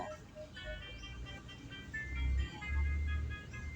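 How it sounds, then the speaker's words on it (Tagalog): Trucks rolling past on a roadside, their low engine rumble rising and swelling as they near, with faint tonal sounds above. "Yan, daming truck na daan dito eh."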